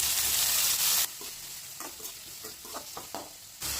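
Chopped tomatoes and garlic drop into hot oil with onions in a pan, a loud burst of sizzling that cuts off after a second, then quieter frying with a string of light spoon scrapes and taps.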